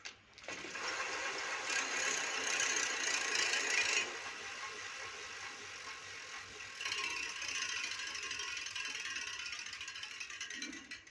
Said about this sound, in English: we rotate the backside of wheel of the bicycle with the high speed and touch the knitting needle with the wheel and observe the sound